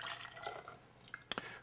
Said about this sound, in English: pour that out of my jigger first